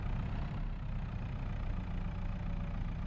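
A truck engine in the Farming Simulator 22 video game runs at a steady idle, a continuous low rumble that stays even and unbroken, with no talk over it.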